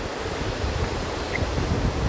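Ocean waves wash gently at low tide, a steady broadband surf hiss with soft rolling swells and some wind noise, moderately loud and continuous, with no voices.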